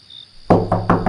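Knocking on a door in an old haveli at night, three sharp, loud raps spaced evenly after a quiet stretch with faint insect chirping.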